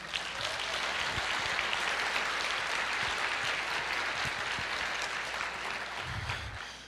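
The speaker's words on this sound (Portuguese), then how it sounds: "Pode aplaudir." An audience at a church sermon claps in a dense, steady wash of applause that holds for several seconds, then thins slightly near the end, with a faint low voice at the close.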